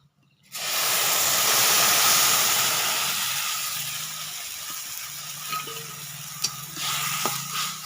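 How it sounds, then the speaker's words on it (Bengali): Milk poured into a pan of hot fried vermicelli bursts into a loud, close hiss and steamy sizzle. It then settles into a steady, softer bubbling sizzle with a few small clinks, and no one speaks. "দুধটা ঢেলে দেব।"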